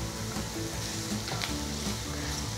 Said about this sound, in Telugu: ఈ ఉల్లిపాయల్ని 2-3 మినిట్స్ వేయించుకోవాలి, అంటే ట్రాన్స్పరెంట్ అవనివ్వాలి.